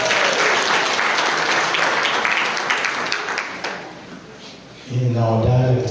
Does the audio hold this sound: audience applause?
yes